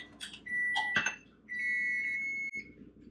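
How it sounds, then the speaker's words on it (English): Electronic beeps from kitchen appliances: a few short tones, then a long steady beep, fairly clear in a quiet room. "Why is there everything beeping right now?"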